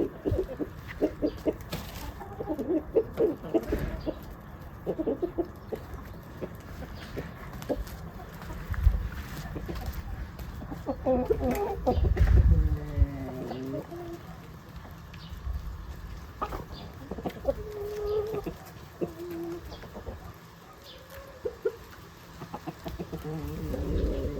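Jersey Giant chickens cluck and murmur in an autumn yard, with scattered close calls and short bursts of clucking over a quiet outdoor background.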